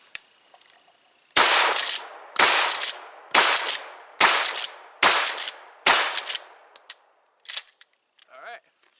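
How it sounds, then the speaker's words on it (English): A Remington 870 pump-action shotgun fires slugs at an outdoor range, six loud sharp blasts about a second apart, followed by mechanical clacks of the pump action and a brief voice at the end. "I'm going to go ahead and shoot off the rest of these slugs and just have a little fun on the range."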